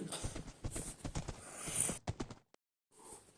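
A horse in the Minecraft video game moves along with a quick run of clip-clop hoofbeats that ends abruptly, followed by near silence and then faint background noise.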